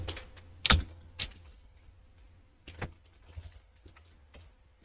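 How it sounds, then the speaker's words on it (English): Someone types words on a computer keyboard, producing sparse, quiet key clicks in irregular bursts over a near-silent room. "I'm just typing the words again"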